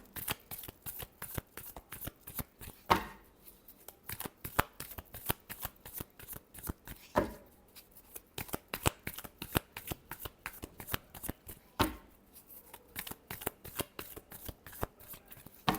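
Tarot cards are shuffled over and over in quick, crisp riffling bursts, close and clear, with brief pauses between runs and no speech.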